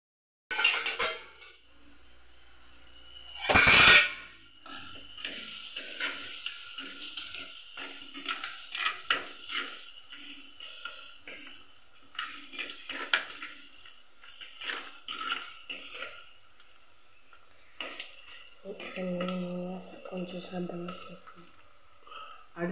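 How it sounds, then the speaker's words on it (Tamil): Onions or tomatoes being sautéed and stirred in a pan, with a loud metallic clank early on, scattered utensil scrapes and light sizzling throughout, and a voice speaking near the end. "பச்சை வாசனை போற வரைக்கும் வதங்கணும்."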